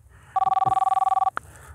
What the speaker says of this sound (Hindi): अरे ये किसका फोन आ गया?